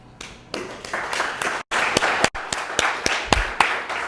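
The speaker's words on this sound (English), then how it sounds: "let's give all the speakers another round of applause" A conference audience gives the speakers another round of applause at a plurilingual Caribbean academic event, a moderately sized group clapping with distinct individual hand claps standing out, broken by two brief silent gaps.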